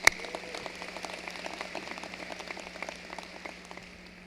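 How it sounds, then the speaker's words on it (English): Many hands clapping at a 2022 Eastern Michigan University summer graduation ceremony. The crowd applause is steady and moderately loud, then thins out gradually toward the end. "A round of applause for them as well"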